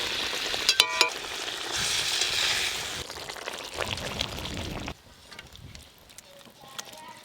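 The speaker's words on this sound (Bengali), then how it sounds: "পাবদা মাছের তেল ঝাল হয়ে গেছে, এবার ঢেলে নেব।" Pabda fish oil-chili curry poured out of a pan, a loud frying sizzle with clinks of metal utensils that drops off sharply to a quieter kitchen background with faint clatter.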